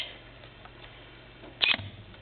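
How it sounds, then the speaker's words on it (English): Pop-up flash springing open on a Canon EOS Rebel XS DSLR, a single short mechanical snap with a brief clatter, close and fairly loud against quiet room tone. "If I turn it on, I'll pop up the flash."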